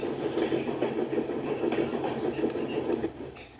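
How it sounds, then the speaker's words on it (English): Railway trucks being shunted along rails, with a steady rolling rumble and a few sharp metallic clicks and clanks near the end. "Shunting trucks, said Ben as he shunted the two trucks where he left off"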